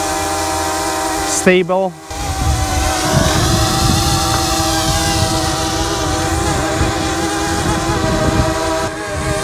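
DJI Mavic Mini drone lifting off and hovering in wind, a loud, steady, high-pitched whining buzz of spinning propellers heard nearby after a brief pause, with a single short spoken word early on.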